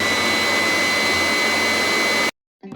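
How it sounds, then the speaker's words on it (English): A vacuum cleaner drones loudly and steadily with a high whine for about two seconds, then cuts off abruptly into silence before a faint sound returns. "I think I might have left a vacuum on"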